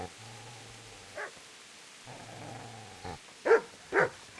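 Dog in the medieval role-playing game Kingdom Come: Deliverance gives a few sharp barks near the end, after low growling, with no talk.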